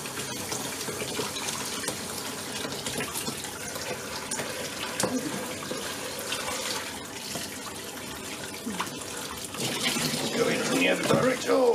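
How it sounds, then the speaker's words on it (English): Hot water poured and splashing inside an Indesit washer dryer to flush out a blockage, a steady broadband watery rush that swells louder near the end, with someone talking over it. "Just a load of hot water, trying to direct it down over where the actual blockages of stuff are."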